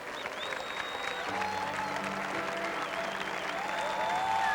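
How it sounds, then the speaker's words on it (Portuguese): A church congregation rises and applauds hard for a priest's sermon, dense sustained clapping filling the hall with crowd noise and a few voices mixed in, steady and strong throughout. "Ficando em pé e aplaudindo com força"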